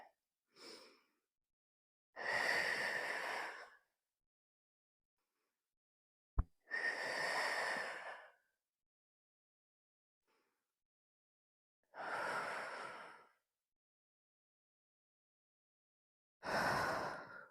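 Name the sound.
slow deep breathing during yoga pose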